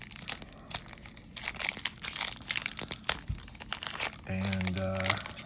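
A Modern Horizons 2 card booster pack, its foil sealed tightly with glue, is crinkled and torn open in dense, irregular crackling bursts close by, with a brief tonal hum near the end and a voice talking underneath.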